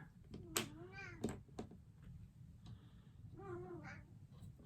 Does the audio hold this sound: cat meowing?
yes